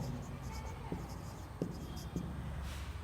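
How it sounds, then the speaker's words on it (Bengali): A math question is written on a board in a classroom, with a few distinct tapping strokes over a faint steady background hum and no speech. "এখন লিখব প্রশ্ন"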